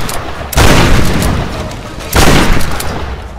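Two heavy gunshot blasts from the video game Tomb Raider, loud and close, each a broadband boom at roughly one-and-a-half-second spacing with a lingering rumble between them, no talking over them.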